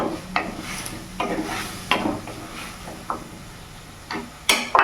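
Soy sauce going into a pan of sizzling chilli mushrooms over a medium gas flame, a low frying hiss under a series of sharp spatula scrapes and knocks against the pan, ending in a brighter burst.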